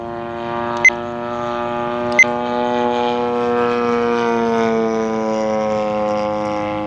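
A Seagull Models Gilmore Red Lion Racer, a 35cc gas-powered RC plane, drones steadily overhead with a smooth, sustained engine tone that shifts slightly in pitch as it flies, punctuated by two brief sharp clicks.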